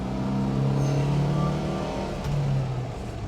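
A 1973 Alfa Romeo Giulia 1300 Super drives a winding road, its engine droning steadily from inside the cabin and rising and easing slightly with the throttle.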